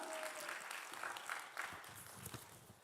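Applause from a high school church youth group audience in a sanctuary, a steady wash of clapping lasting a few seconds, moderately distant with faint voices mixed in.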